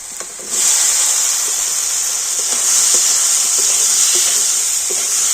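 Balls of flour dough dropped into a hot pan and stirred set off a loud, steady sizzle that jumps up sharply at the start and holds a dense hiss throughout, with faint stirring scrapes underneath.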